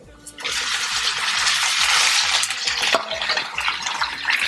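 Sausage fries in a pan with a loud, steady sizzle that starts abruptly and continues throughout, over a repeating low beat in the background.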